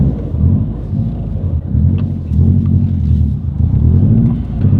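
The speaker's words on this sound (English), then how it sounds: "it is hard to beat the factory unequal length header rumble" Loud, steady low rumble from a Subaru WRX boxer engine with factory unequal length headers, throbbing close up with slight pulsing swells and no talk over it.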